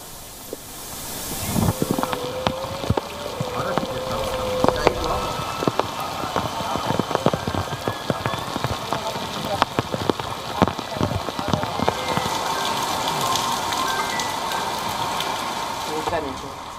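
Heavy rain in Valencia falls as a steady, dense patter and hiss across the whole stretch, with some wind noise and a faint voice under it.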